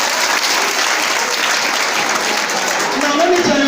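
Sustained, dense applause from an audience honouring donors at a free JAMB training programme event, loud and steady throughout with a busy crowd texture.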